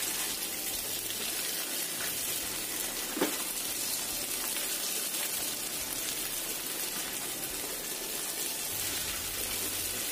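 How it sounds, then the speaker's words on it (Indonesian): Food frying in a pan until the underside turns slightly dry and crisp, a steady broadband sizzle filling the whole stretch with one brief sharp crackle partway through, no talking. "kita goreng sampai bawahnya itu agak kering kayak gini"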